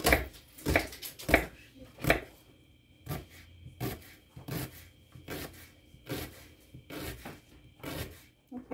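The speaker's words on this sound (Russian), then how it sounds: "Лук у меня красный, салатный. Тоже мелко нарежу." A knife finely chops a red salad onion on a board in a home kitchen: a quick burst of crisp, close taps, then a steadier run of evenly spaced cuts with short gaps.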